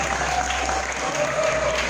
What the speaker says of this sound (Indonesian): Wah, tepuk tangan dulu nih.